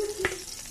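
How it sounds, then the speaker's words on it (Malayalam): Tomatoes frying in hot oil while Maqlooba rice is prepared give a short, close burst of sizzling with no voices. "ഇനി തക്കാളിയും കൂടെ നമുക്ക് ജസ്റ്റ് ഒന്ന് ഫ്രൈ ആക്കിയിട്ടിട്ട് നമുക്ക് എണ്ണയിൽ നിന്ന് മാറ്റാം"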